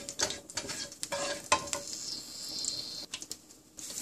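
Spices splutter in hot oil while being stirred, giving a continuous crackling sizzle broken by scraping strokes and a few spoon knocks against the pan, close and moderately quiet, with no speech.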